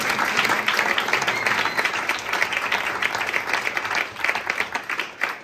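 An audience at a jazz concert in a small venue applauds, lively clapping from a modest crowd with individual claps audible, thinning out and becoming more scattered near the end.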